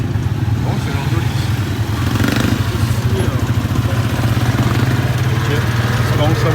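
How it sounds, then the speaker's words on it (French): A motorcycle engine on an island in the Philippines runs steadily with a low, throbbing idle, close and loud throughout, with light clatter over the continuous drone. "Par contre lui, le frérot, sa moto elle démarre pas."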